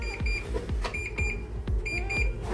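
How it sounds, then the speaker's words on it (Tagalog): An alarm going off inside an airport restroom while travelling, a repeated high electronic beeping tone in short rhythmic bursts, heard over thumps and background noise. "Oh, ano nag-alarm?"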